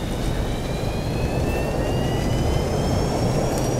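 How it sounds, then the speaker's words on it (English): FlyJSim T-43A jet engines roar as thrust reversers deploy on landing in X-Plane 11, a loud, steady broadband rush with a faint rising whine, no voices. "bring in the thrust reversers."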